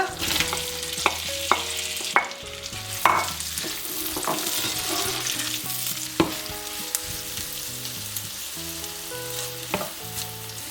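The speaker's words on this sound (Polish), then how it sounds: "Na rozgrzaną patelnię wrzucam masło. I tłuszcz już jest rozgrzany. Wrzucę teraz cebulę." Onion fries in hot butter in a pan, giving a continuous crackling sizzle with occasional sharp spoon-on-pan knocks, while faint sustained musical tones play in the background.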